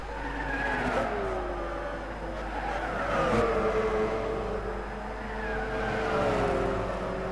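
Subaru BRZ race cars in a GT300 endurance racing video game battling side by side at Spa, engines droning with shifting pitch and tyres squealing, steady and fairly loud with no talk.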